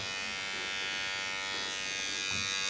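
Electric hair clippers cutting hair clipper-over-comb during a fade haircut, a close steady high-pitched buzz that holds throughout with small load changes as the blades pass through hair.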